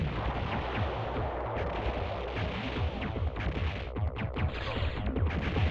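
Bomb explosions from the Silent Bomber video game rumble in dense, overlapping bursts, a continuous loud barrage of booms and blasts with no voice over it.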